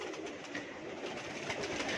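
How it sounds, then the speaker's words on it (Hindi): A wild pigeon coos outside a home facing a hill in Mumbai, a soft low call carried over steady background hiss, faint and somewhat distant, with no voices. "ये जो बाहर जो कबूतर दिख रहा है वो ऐसी जंगली कबूतर है ना ये"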